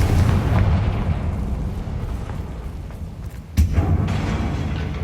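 A Confringo fire spell bursting in Hogwarts Legacy: a deep, rumbling blast with a sharp second impact partway through, loud and sustained without talk.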